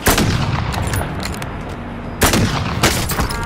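Rapid sniper and rifle gunfire in an online shooter game, loud dense bursts of shots crackling continuously, with a brief lull before more close volleys.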